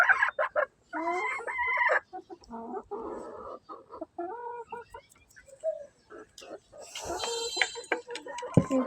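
Laying hens cluck in a backyard coop, a busy run of close, repeated clucks and calls with a rooster crowing briefly, while a person talks over much of it.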